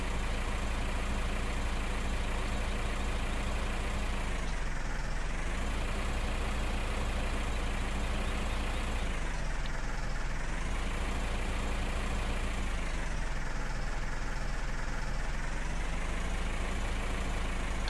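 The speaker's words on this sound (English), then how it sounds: "I can't get a decent angle with this tractor." A Farming Simulator 15 tractor engine runs continuously at a steady loud drone, its pitch dipping and rising a few times as the load changes, with no voices.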